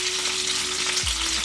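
Steak frying in butter in a pan, giving a steady, dense sizzle throughout, close and continuous, with a low thump near the end.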